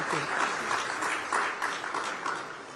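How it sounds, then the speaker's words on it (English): Audience applause fills a conclave hall, a steady wash of many hands clapping at moderate level with no pause, faint voices mixed underneath. "Let's give them a very warm round of applause for that as well"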